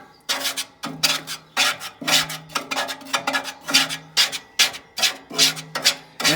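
An old non-stick spatula scrapes a Weber Spirit II grill drip pan in about a dozen rhythmic rasping strokes, close and fairly loud, with no other sound between them.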